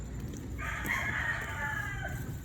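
A rooster crows once in a small coop of chickens, a clear mid-distance call lasting about a second and a half over a low background hum.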